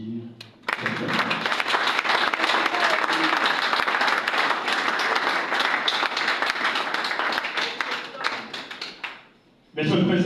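Audience at a University of Kinshasa address bursts into loud, sustained applause after a speaker's introduction, with dense clapping filling nearly ten seconds before it cuts off abruptly.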